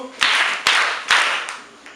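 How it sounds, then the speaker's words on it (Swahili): A primary school class claps together three times in an even rhythm, each clap sharp and loud at close range, with a faint trailing tap afterward. "Makofi matatu."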